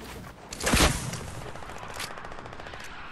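A burst of video game gunfire, one loud close shot followed by a rapid rattle of automatic fire that fades to lighter distant popping.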